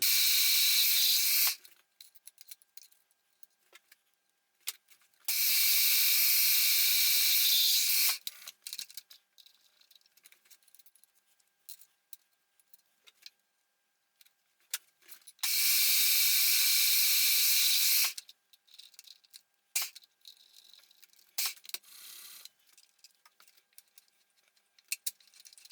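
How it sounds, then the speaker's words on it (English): A drill bores holes in steel tram wheel parts for a mini-digger, three separate loud sustained whining bursts of a few seconds each, with quiet clinks and handling noises between them. "let's drill some holes in these things"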